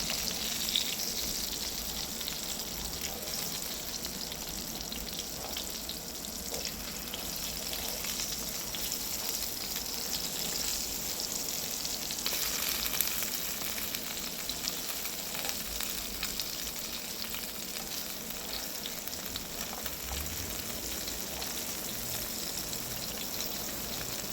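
Anchovies sizzle and crackle steadily as they fry in a pan of oil, a dense, continuous hiss at close range with no talking throughout.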